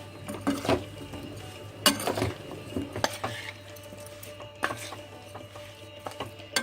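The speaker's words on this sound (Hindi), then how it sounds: "अब आंवले की फांके डाल देंगे। इसे मिक्स कर देंगे।" Gooseberry slices being stirred into pickle masala, a series of soft scrapes and light clinks of a spoon against a bowl at an irregular pace, close and quiet.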